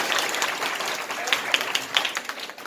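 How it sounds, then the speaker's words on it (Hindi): Audience applause at a community award ceremony, a dense wash of clapping with sharper individual claps popping out, steady and fairly loud throughout. "अतः जोरदार तालियां बजाएं साथी के लिए।"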